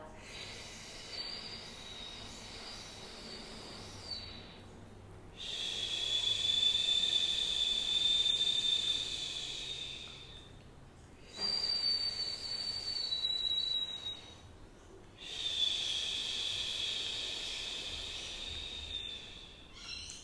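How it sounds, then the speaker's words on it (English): Slow, steady breaths whistle in and out through pursed lips, each long airy tone separated by short pauses, close and alone over faint background hiss. "Shoulders relaxed, whistling in and out through the mouth."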